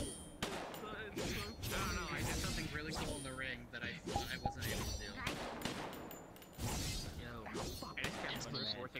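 Gunfire from dueling guns in a VRChat roleplay set at Dragonspire Keep, dense bursts and sharp cracks layered with constant overlapping voices and chatter throughout.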